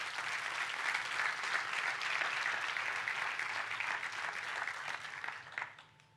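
A church congregation breaks into strong applause during a sermon, a sustained wash of clapping from many hands that swells, holds, then fades out in the last second.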